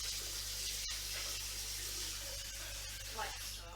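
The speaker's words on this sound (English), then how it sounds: "Rinse out the pasta pan" Tap water runs steadily into a pasta pan as it is rinsed out in a kitchen sink, a close, constant rushing splash with a few small clanks.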